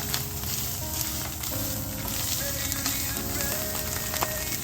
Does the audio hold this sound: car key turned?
no